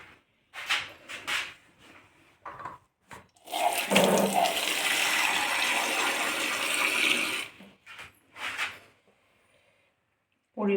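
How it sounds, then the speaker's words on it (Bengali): Water poured into a cooking pot of cabbage with onions, a steady splashing rush lasting several seconds, close by, with a voice speaking briefly before and after. "পরিমাণ মতন জল দিয়ে দিলাম।"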